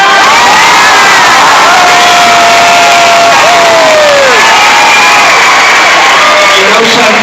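Comic convention audience at a Stan Lee Q&A, a loud close burst of cheering, whooping and shouting from a large crowd that stays dense and sustained throughout, with a few voices rising above the roar.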